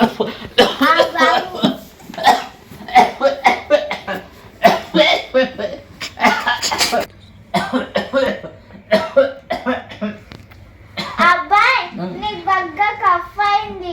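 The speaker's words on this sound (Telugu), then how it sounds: "నాకు దగ్గు బగ్గలేసింది" Several rough coughs break out between lively voices, including a child's, talking close by.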